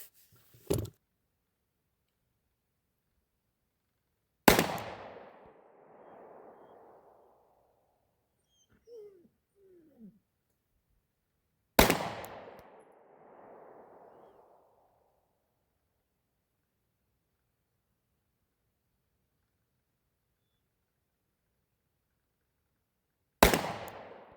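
Three loud, sharp 9mm pistol shots with Browning and Remington range ammo, widely spaced with echoing tails at an outdoor range, plus a faint clink in between.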